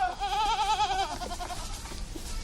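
A goat on a goat farm gives one loud, close, wavering bleat lasting about a second, followed by quieter farmyard background.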